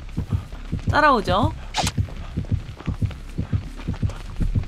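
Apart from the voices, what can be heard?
heartbeat warning sound as killer nears, Dead by Daylight video game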